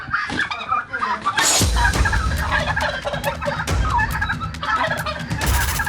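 Several turkeys gobble loudly and repeatedly at close range as the males scuffle at feeding time, with bursts of rapid, rattling calls overlapping one another and a voice speaking faintly in the background.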